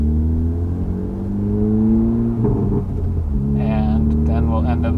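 A Honda Civic Type R FL5 drives with its windows up, its engine giving a steady low cabin hum that rises in pitch, while a person talks over it.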